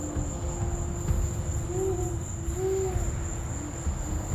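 An owl hoots at night in the Amazon, a few soft low hoots in a loose rhythm over a steady background of crickets and other insects, with no voices.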